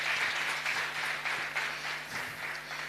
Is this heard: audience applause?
yes